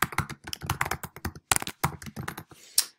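Rapid, close clicks of a computer keyboard as a survey title is typed, in uneven bursts with a brief pause mid-way and a final louder tap.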